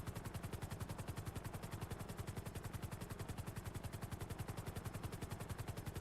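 A helicopter flying in a GTA roleplay server video game, its rotor beating in a rapid, perfectly steady chop that stays faint and unbroken throughout, with no talking.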